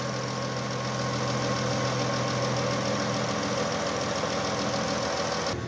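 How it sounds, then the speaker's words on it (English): A 2014 Dodge Journey R/T's 3.6 V6 engine idles steadily nearby, a continuous low rumble with a faint rhythmic knock, no voices, cutting off abruptly at the end. "Shot of the exhaust with the motor running."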